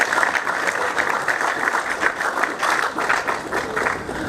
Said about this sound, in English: I think this one needs a clap because you are going to have a title